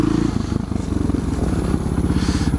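An SM610 motorcycle engine in first gear throbs close and loud, with a rapid, even thumping pulse that continues throughout.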